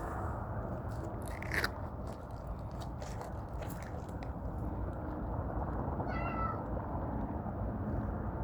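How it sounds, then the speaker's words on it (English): Domestic cat meowing indoors, a brief faint meow late in the clip over constant low background noise, with scattered clicks and taps earlier. "That's my cat."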